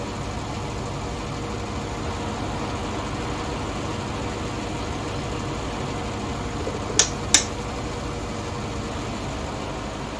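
A 90 horsepower tractor running with a grass mower while cutting grass fields on a farm, a steady broadband engine drone throughout with two brief sharp clicks near the end.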